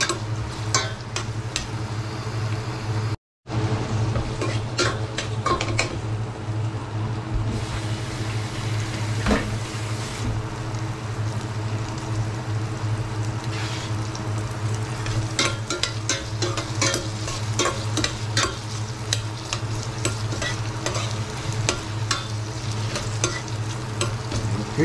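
A steady, loud sizzle of food sautéing in a hot pan goes on throughout, with frequent spoon scrapes and clinks. A brief dropout occurs early on, and no one speaks.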